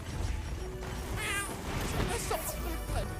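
A cat meows a couple of times in a short, faint, high cry, heard faintly over steady game background noise while playing Monster Hunter Wilds.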